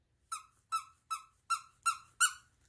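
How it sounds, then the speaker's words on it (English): A squeaker in the chest of a vintage English-made Chiltern teddy bear gives six sharp, evenly spaced squeaks as it is squeezed, close and clear against a quiet background. "this guy, the smaller of the two, has a squeaker in his chest. And when you squeeze his chest,"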